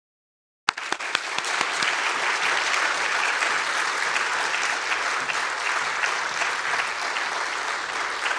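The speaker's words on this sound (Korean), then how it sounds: "우리 교수님 나오실 때 큰 박수로 환영하겠습니다" A church audience greets a guest lecturer at an evening service with applause that breaks out suddenly after silence, then stays as a loud, steady wash of many hands clapping.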